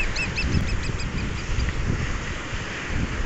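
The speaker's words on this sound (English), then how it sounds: "There's all these blackbirds with red bills." A large flock of black birds with red bills calls from the shore during a sailing trip off Broughton Island, with repeated overlapping honking, quacking cries steady over constant wind and water noise, moderately near.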